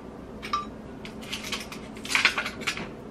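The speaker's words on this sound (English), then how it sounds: "And we need a handful of ice" A handful of ice cubes clatters into a blender jar for a purple smoothie, several sharp clinks and rattles in quick bursts, close and fairly quiet.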